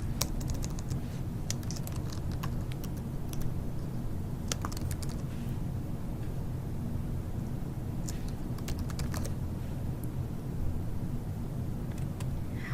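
Typing on a computer keyboard while filling in an online form, with scattered light key taps in brief bursts that sit faintly over a steady background hiss.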